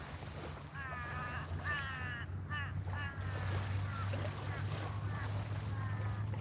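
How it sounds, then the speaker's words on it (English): Several crows caw outdoors in repeated harsh calls, some overlapping, over a steady low engine rumble like a boat motor and some wind. "Damn those crows."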